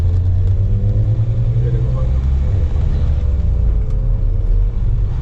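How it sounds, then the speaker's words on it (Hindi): A deep, steady engine rumble from a Mahindra Scorpio SUV's exhaust, loud and close, holding a low growl throughout with slight shifts in pitch. "एग्जॉस्ट की आवाज़ आई"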